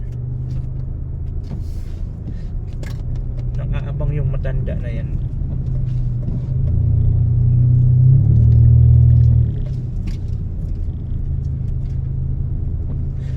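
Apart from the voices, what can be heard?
car rumbling and rattling on the road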